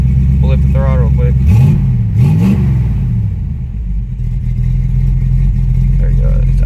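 A 1994 Sonoma with a V8 sits at a steady idle, then its throttle is blipped twice in quick succession, the revs rising and falling before it settles back to a rumbling idle, close and loud, with a brief voice early on.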